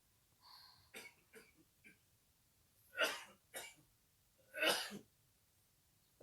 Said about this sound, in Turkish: böyle kuru öksürük